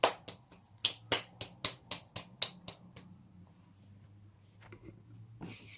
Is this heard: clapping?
yes